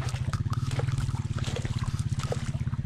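Creek water trickling and burbling steadily in a fast, even ripple, close and continuous with no voices over it.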